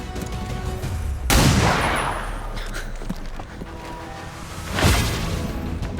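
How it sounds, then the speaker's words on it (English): Weapon fire in XCOM 2: War of the Chosen, heard as a sudden loud blast at the start followed by a long decaying crash and a second burst later, close and heavy. "We're gonna have to shoot her with a pistol, which is stupid."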